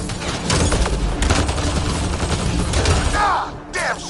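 Dense gunfire in Mass Effect Andromeda, bursts of rapid shots and impacts layered over one another, loud and continuous through most of the clip and easing near the end, with combat effects whooshing in the mix.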